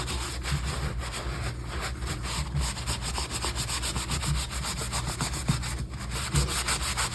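Antiquing stain being rubbed onto an ornament with a paper towel, a close, continuous scratchy rubbing in quick back-and-forth strokes at a fairly even rhythm, no speech.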